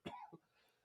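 One person coughs twice in quick succession, close to the microphone but at low level, with quiet room tone after.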